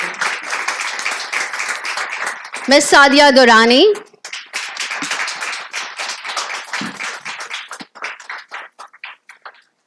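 Audience members at an educational research conference keep up steady, moderately close clapping while an announcer speaks names over it.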